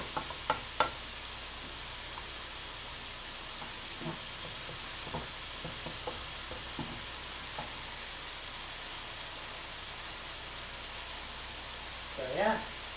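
Kenyan chicken curry sizzles quietly in a pan as it is stirred, a soft steady frying hiss with scattered scraping and tapping from the utensil.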